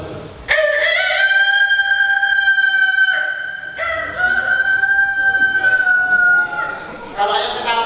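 A person imitates a rooster's cock-a-doodle-doo at a storytelling workshop, a loud, close voice stretched into long tonal crows repeated several times in succession.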